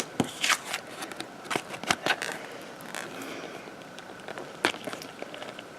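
A paper card being slipped into a sewn shaker gift card holder, with several sharp papery rustles and crinkles, close and fairly quiet, most of them near the start.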